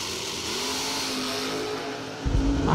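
A drag racing car at a bracket race revs hard against its rev limiter, a steady loud mechanical drone that swells louder near the end.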